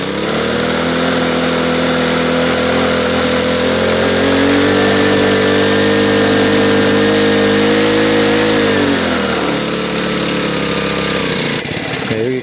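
A JEV-10 self-propelled plastic mulch laying machine runs with its small engine chugging loud and close, a steady buzzing drone that holds a constant pitch, then drops and roughens near the end, with no talking.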